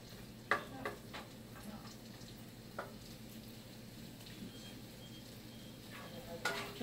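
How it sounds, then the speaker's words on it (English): Onions and garlic sauté in a pan while rice is being made, a soft steady sizzle with a few faint stirring clicks, quiet and close, with no one talking. "Just need to saute these till the onions are translucent"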